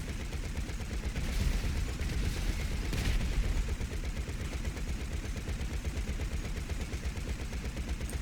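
Quad guns on a Mil-Spec anti-aircraft vehicle in GTA Online fire a continuous, rapid stream of heavy automatic rounds, loud and steady for the full stretch with no pauses.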